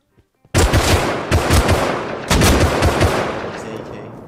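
AK rifle fire in Rust Console Edition, loud rapid bursts of automatic gunfire in quick succession, with a lingering echo after the last shots.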